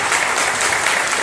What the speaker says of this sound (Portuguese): Vamos aplaudir o Senhor pela vida dos nossos irmãos.